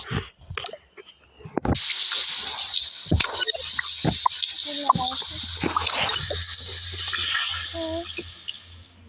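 A shower sprays steadily, hissing and splashing at close range for several seconds while voices talk over it.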